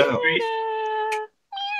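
A long, drawn-out meow with a steady pitch, most likely a human voice imitating a cat, followed after a brief pause by a shorter second meow.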